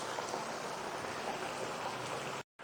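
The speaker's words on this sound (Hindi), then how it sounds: "इसको लाइट जो है ना स्लो फ्लेम पर फ्राई करना है।" Sweet dough frying in oil over a slow flame for an easy homemade mithai, a steady dense sizzle and crackle, close and even, cutting off abruptly near the end.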